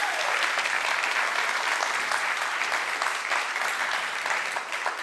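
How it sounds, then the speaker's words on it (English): Loud, sustained applause from a plenary audience at a creativity forum held at Hospitalhof in Stuttgart, a dense continuous wash of many hands clapping that holds steady and eases slightly near the end. "So a big applause"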